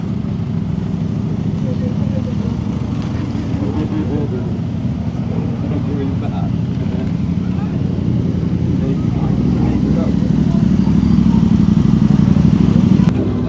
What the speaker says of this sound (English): Got another Hayabusa. This is one of the original ones, the GSX 1300.